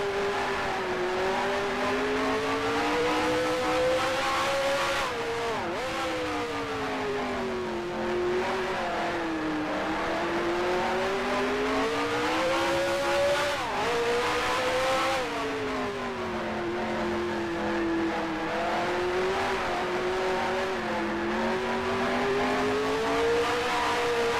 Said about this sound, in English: Along with the Repco sound of the engine and everything.